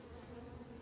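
Honeybees buzz steadily around an open hive being lightly smoked during an inspection of a weak colony, a continuous faint drone with no voices.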